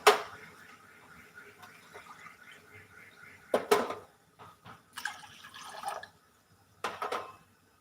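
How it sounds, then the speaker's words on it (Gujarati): Water splashes and trickles into a pot in short bursts, with a gurgling pour at the start and brief drips between pours, fairly quiet. "ઉકાળો બનાવવા માટે આ એક તપેલીમાં આપણે બે ગ્લાસ જેટલું પાણી એડ કરીશું"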